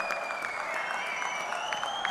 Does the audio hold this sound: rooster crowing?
no